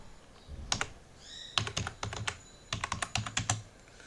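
A tmux command is typed on a computer keyboard in Ubuntu, heard as close, crisp key clicks in short bursts separated by brief pauses.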